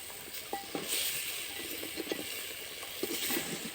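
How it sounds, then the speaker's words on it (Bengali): Chicken curry cooking in an earthen clay pot, stirred with soft scrapes and light taps over a quiet, steady sizzle, close by and fairly faint, with no talking. "একটু নাড়িয়ে দেবো"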